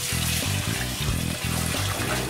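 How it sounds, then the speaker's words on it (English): Twelve quarts of water pour steadily into a brewing pot for a pumpkin ale mash, a continuous splashing rush running throughout without talk. "we're gonna add our 12 quarts of water."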